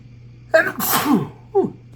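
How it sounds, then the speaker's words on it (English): A single sharp sneeze bursts out after a short inhaled gasp, close and loud, followed by a brief breathy sound. "And I'm about to sneeze."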